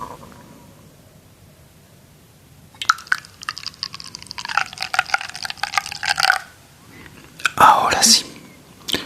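Water is poured slowly while making coffee, a soft splashing trickle that comes in two bursts with a brief pause between them, set against whispered talk nearby.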